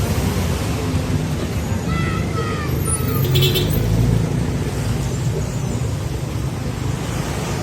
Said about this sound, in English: Here comes a kind of a medium-sized bus, and check it out. It's a Mercedes